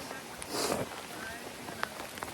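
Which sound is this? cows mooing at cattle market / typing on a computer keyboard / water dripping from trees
water dripping from trees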